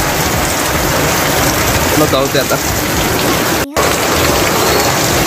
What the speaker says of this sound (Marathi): अजून पण इथं पाऊस आहे